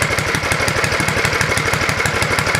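A vintage, rusty Ariens ST824 snowblower engine idles on old oil with a loud, even, rapid chugging pulse that holds steady up close.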